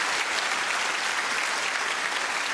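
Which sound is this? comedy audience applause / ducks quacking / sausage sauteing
comedy audience applause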